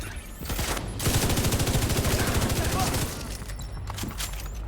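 Rapid automatic gunfire from The Division 2 rattles in a dense, steady burst, loud and close, with shorter shots before and after and game voices in the mix.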